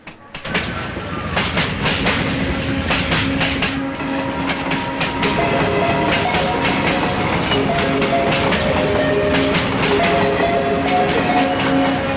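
A train rumbles and clatters past at close range at Bandra railway station, with rhythmic wheel clicks over a continuous loud roar throughout.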